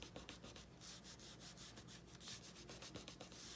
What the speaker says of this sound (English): I rub it so it doesn't decide to curl up.